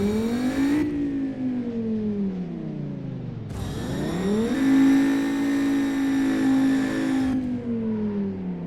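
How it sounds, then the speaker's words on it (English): A car engine revs hard on a purpose-built driving track, pitch climbing and falling through several loud, close accelerations with a brief dip between runs and no talking. "I kind of almost know the sound of the engine I need to have by the time I get to the edge"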